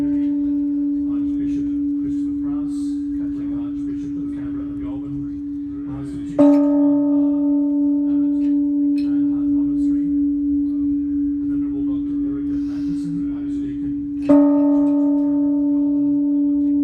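A Peace Bell, the 24th erected worldwide, rings at its launch ceremony in Canberra on World Rotary Day, sustaining a long steady tone that is struck again twice for fresh swells, with faint crowd murmur beneath.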